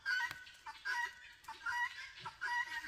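Chickens cluck in short repeated bursts at a steady pace, moderately close, in a quiet outdoor setting near a nest of eggs in a forest, with no talking.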